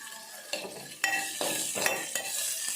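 A spice tempering for majjige saaru sizzles in a pan while a spoon stirs it, several sharp scraping strokes over a steady close crackle.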